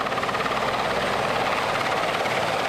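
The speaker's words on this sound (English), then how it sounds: "A helicopter lands." Marine One, the presidential helicopter, lands on the South Lawn of the White House, its rotor beating as a steady, fast whirring thump under a broad wash of turbine noise, loud and constant throughout.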